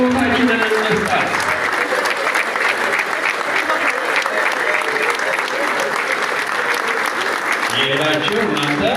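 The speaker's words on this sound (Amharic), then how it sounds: "በጭብጨባ እየተከተልን እንውጣ።" Steady, dense clapping from a large gathering at the burial farewell of a Hager Fikir Theatre actress, with a voice heard speaking briefly at the start and again toward the end.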